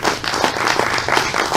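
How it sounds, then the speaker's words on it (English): Audience applause following a talk on economics, dense clapping at steady loudness, sustained throughout without pause. "I think you deserve a huge round of applause"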